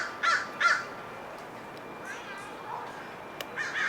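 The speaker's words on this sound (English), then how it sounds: "These crows have a lot to say about it." Crows caw outdoors in Marin open space: two loud, harsh caws come close together at the start, followed by softer, scattered calls and a last burst of cawing near the end over quiet background.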